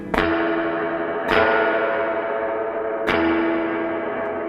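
Electric guitar played through a Sweet Blackberry amp with spring reverb, three sharp picked chords each ringing out into a long splashy decaying reverb tail.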